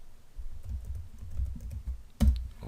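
Typing on a computer keyboard during 3D modeling work, a steady stream of soft, close keystrokes ending in one sharper, louder tap, with no talk over it.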